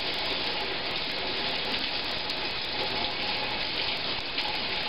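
Water rinsing a corny keg post, a steady full rushing spray of tap water running continuously at close range with no pauses.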